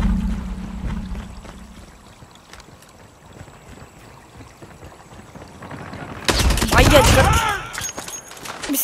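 An AK-47 fires in Call of Duty, a loud burst of rapid automatic shots near the end following quieter game ambience with scattered clicks and thuds.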